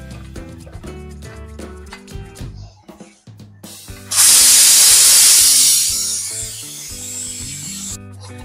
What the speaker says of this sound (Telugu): ప్రెషర్ రిలీజ్ అయిపోయింది